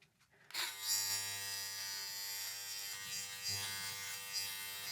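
Philips Norelco Multigroom electric beard trimmer switching on and buzzing steadily close up as it trims a goatee, its motor hum dipping and rising slightly as it moves over the hair.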